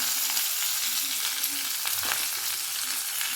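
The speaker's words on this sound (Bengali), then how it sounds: "লবণ দিয়ে একটু এভাবে নাড়িয়ে নেব।" Vegetables for Bengali shukto frying in a pan after salt is added, a steady close sizzle with brief stirring scrapes on top, no voices.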